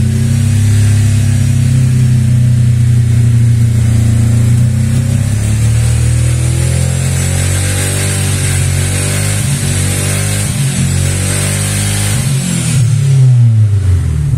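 A weak car engine running rough and burning oil, with a worn tappet, rumbles loudly and steadily at close range, its low uneven drone continuing throughout with slight shifts in pitch.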